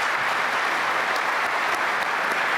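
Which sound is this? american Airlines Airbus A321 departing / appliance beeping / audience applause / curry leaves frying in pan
audience applause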